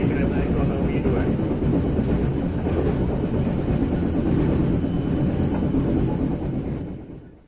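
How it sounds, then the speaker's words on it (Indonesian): A commuter train departing a station in western Java, rumbling and rattling along the tracks, a steady clatter that fades out at the end. "kereta api komuter lain Merak yang saya naik ini diberangkatkan kembali dari stasiun Jambu Baru"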